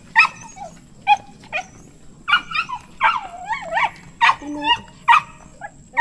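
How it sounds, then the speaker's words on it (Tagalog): Several dogs bark and whimper in repeated close bursts, yips and whines mixed in, with faint talk in the background. "Ah, madaming aso si kuya, oh."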